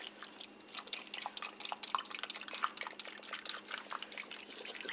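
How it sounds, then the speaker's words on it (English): Beef broth pours from a carton into an Instant Pot with pot roast, a soft, steady liquid trickle and splatter of dripping sounds, close and quiet, with no talking. "And the last thing I'm going to do is add 2 cups of beef broth."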